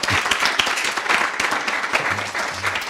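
Audience clapping at a live-streamed event, a dense patter of many hands going steadily and fairly loud throughout, with a faint low hum appearing near the end.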